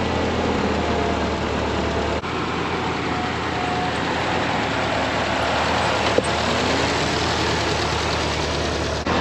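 An old tractor engine chugs and rumbles steadily at close range, a low continuous idle with a faint clank here and there.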